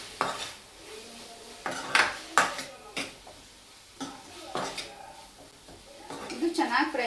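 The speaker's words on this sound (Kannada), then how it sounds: "ಇದಕ್ಕೆ ಸ್ವಲ್ಪ ಕೊತ್ತಂಬರಿ ಸೊಪ್ಪನ್ನು ಕೂಡ ಫ್ರೈ ಮಾಡೋಕ್ಕೆ ಹಾಕ್ತಾ ಇದ್ದೀನಿ." Coriander leaves and tomato frying in a pan for a North Karnataka hesaru kaalu palya, heard as a series of sharp, close spoon scrapes and clanks against the pan over a faint frying hiss.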